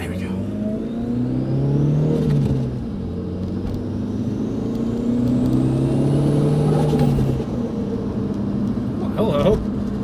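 Car driven hard on a closed course, engine revving up through rising pulls with gear changes in between, loud and close from inside the cabin, with road rumble underneath.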